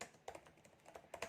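Code being typed on a computer keyboard, a quick, uneven patter of soft key clicks heard close but faint, with no talking.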